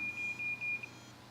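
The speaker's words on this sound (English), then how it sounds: "Lots of beeps going off here." Fall-detection alert on a smartwatch, triggered by a simulated fall during a demonstration at a retirement living event: a steady high electronic beep repeating in short pulses for under a second, fairly faint against room noise.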